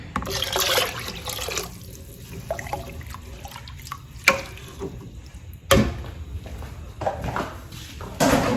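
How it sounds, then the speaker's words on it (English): Water is poured into a pan with coconut milk while making pineapple teriyaki sauce. The pour is a close, uneven splash with a few sharper clinks and drips, and no one speaks. "I'm going to add my water."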